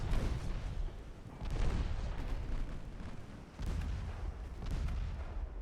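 Naval guns boom repeatedly in a ship gunfight with a heavy cruiser in an Ottoman campaign game, rumbling low-heavy blasts that swell and fade over continuous battle noise, with no talking.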